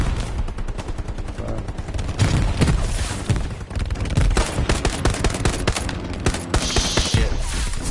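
Dense, continuous gunfire from Hell Let Loose, a World War II shooter, with rapid machine-gun bursts and scattered single shots overlapping loudly throughout and occasional heavier booms mixed in.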